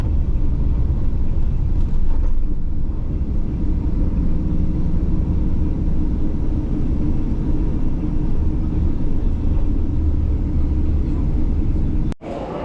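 Aircraft engines rumbling at an airport, a loud, continuous low roar that stays steady throughout with no talk, ending in a brief sharp click.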